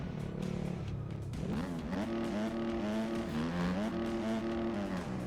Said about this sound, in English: Fourth gear, wheel spin.